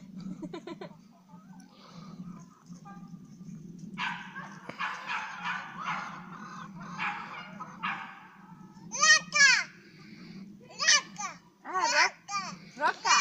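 A dog at home barks and yips in short bursts, close and fairly loud, the calls growing more frequent toward the end over a low steady hum, with people talking in between.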